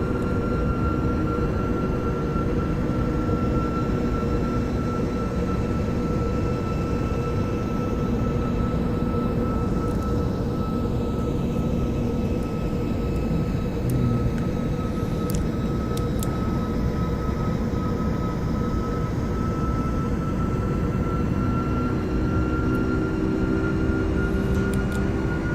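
A simulated airliner engine drones steadily for the whole stretch in Microsoft Flight Simulator X on an approach to Kai Tak, with a sustained whine and a gradual pitch shift as the aircraft passes.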